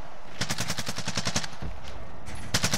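A golden Renetti pistol in Call of Duty Modern Warfare fires a quick, close string of sharp shots, pauses, then cracks off a couple more.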